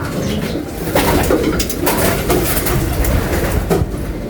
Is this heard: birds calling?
yes